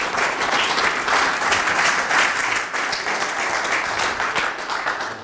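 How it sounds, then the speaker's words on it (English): Steady, dense applause from a crowd, sustained at an even level throughout with no pauses. "one more final clap for Michael"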